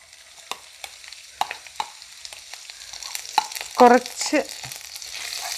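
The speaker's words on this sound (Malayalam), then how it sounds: "അതിലേക്ക് നമ്മൾ ഒരു സവാള ചോപ്പ് ചെയ്തതും ഒരു ചെറിയ കഷ്ണം ഇഞ്ചിയും ഒരു പച്ചമുളകും കൂടെ അരിഞ്ഞതും കൂടെ ഇട്ട് കൊടുക്കുകയാണ്" Chopped onion, a small piece of ginger and green chili dropped into hot oil for a capsicum paneer dry masala, giving a light sizzle with scattered spoon clicks and stirring scrapes, plus a brief spoken word.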